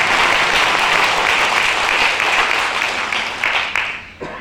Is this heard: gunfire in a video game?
no